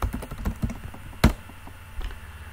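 Close, clattering keystrokes on a computer keyboard as a command is typed, with an irregular rhythm, one sharper louder key press, and no talking.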